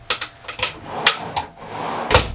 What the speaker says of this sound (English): More drawer space underneath.